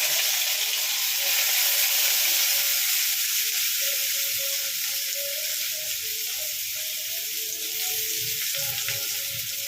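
Chopped onion fries in hot oil, giving a steady, even sizzle that holds at a constant level from start to finish.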